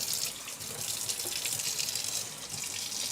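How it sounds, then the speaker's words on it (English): A gentle stream of hot water runs steadily from a tap for washing, a continuous soft hiss and splash with no voices. "I'm just going to put a hot but more gentle stream."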